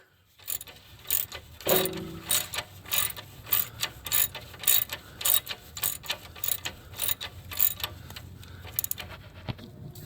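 A ratchet with a 2-foot extension and 19 mm socket turns a bolt during an engine swap on a Kia Soul, giving rapid, close clicking strokes in repeated bursts with short gaps.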